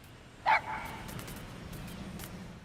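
A single sharp dog bark from Metal Gear Solid V: The Phantom Pain rings out near the start, then fades into a quiet, steady low rumble of game ambience.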